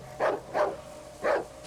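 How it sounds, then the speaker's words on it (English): A dog in the video game Darkwood gives three short muffled barks, two in quick succession and one after a pause, at moderate distance over a low steady hum. "Dog!"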